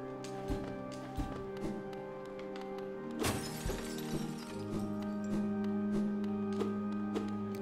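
Glass shattering in the video game Hollow Knight: a loud crash rings out midway over steady musical drones, preceded and followed by smaller thuds and tinkling impacts.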